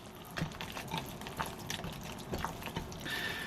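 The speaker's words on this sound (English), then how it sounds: "And now to whisk them together. So we're just going to mix that up like that." Gluten-free American-style pancake batter is whisked in a bowl, with soft, wet, rhythmic sloshing strokes heard quietly and close, with no voices.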